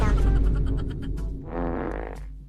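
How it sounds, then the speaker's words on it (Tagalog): A short, buzzy fart sounds in a classroom, loud and close at the start and trailing off within a second, followed by a voice speaking. "Guys, may bad news ako. Umutot ako."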